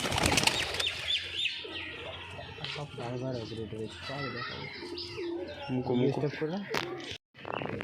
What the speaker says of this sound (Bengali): গাইস এইগুলো হলুদ চোখের গিরিবাজ, পিওর জোর।